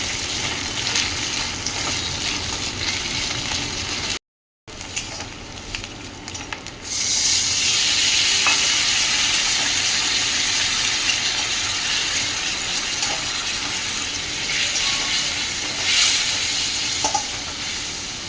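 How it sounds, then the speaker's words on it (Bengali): Green chilies and ginger paste frying in a hot pan, a steady sizzle that swells louder after a brief dropout, with occasional soft clicks of a spoon stirring. "কাঁচা লঙ্কা দিয়ে এটাকে একটু হিট একটু নাড়াচাড়া করে নিচ্ছি"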